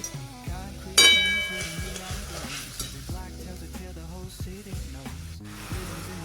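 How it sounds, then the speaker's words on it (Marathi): Sugar syrup boiling and foaming in a pan while a spoon stirs it, with soft bubbling and repeated scraping strokes, a sharp clink near the start, no talking. "साखर विरघळलेली आहे, बघू शकता कसं फेस आलेला आहे आणि उकळी पण आलेली आहे"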